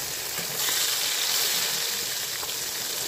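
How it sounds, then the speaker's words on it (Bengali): Catla fish pieces fry in hot oil, giving a steady, close hiss of sizzling with light crackle that stays even across the whole stretch, with no voices over it. "তারপরে দেখো আমি মাছগুলোও ভেজে নিচ্ছি।"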